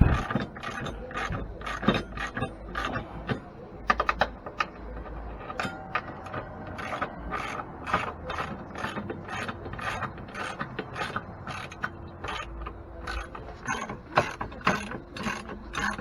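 Hand ratchet wrench driving bolts to mount Rough Country running boards on a 2015 Ford F150, a close, rapid run of sharp metallic clicks in repeated bursts, steady and unaccompanied by talk.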